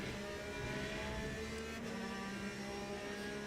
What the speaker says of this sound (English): I do really like the sound of the Aston, compared to the Porsche at least. Much nicer sounding engine.